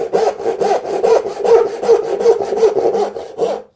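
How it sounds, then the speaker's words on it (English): A hand saw cuts an angled dovetail into a wooden board, making about a dozen quick, even rasping strokes close up, with no talking. "it's set the saw on the kerf and cut down"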